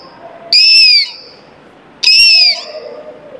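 A person imitates the call of the oriental magpie-robin, giving two loud, close, clear whistled notes about a second and a half apart, each a bright sliding whistle with a sharp onset.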